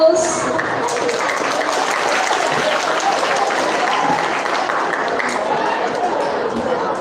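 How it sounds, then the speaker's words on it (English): An audience applauds participant number 4 at a school storytelling event, a steady, full wash of clapping from a crowd that holds for several seconds with faint chatter mixed in. "Give applause for participant number 4"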